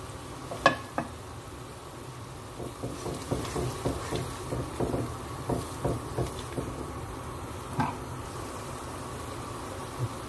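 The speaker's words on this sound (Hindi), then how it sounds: "अब इसमें मैं सोया सॉस भी ऐड कर रहा हूँ" Soy sauce poured onto pasta in a hot pan, giving a steady close sizzle with a run of soft stirring scrapes and taps, no voices.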